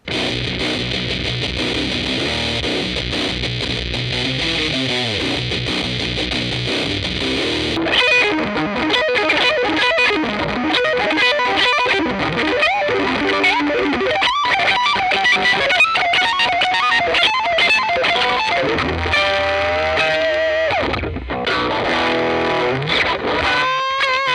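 A heavily distorted electric guitar played loud through a used, poor-sounding amp in Swedish death metal style, sustained crunchy chords shifting into faster riffing and held notes, with no talking.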